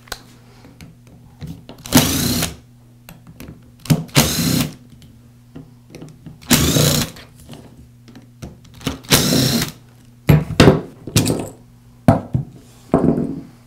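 Screws being driven out of a Makita angle grinder gearbox housing with a power screwdriver: several short whirring bursts of varying length, separated by quiet pauses and faint handling clicks.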